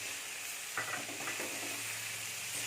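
A coconut, sugar and cardamom mixture for Malabar unnakkaya is stirred in a hot pan, a soft continuous sizzle with a few faint scraping strokes, quiet and close.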